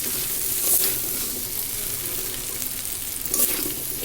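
Noodles frying in a pan sizzle loudly and close, with scraping stirs and a couple of sharper bursts of crackle, no talking.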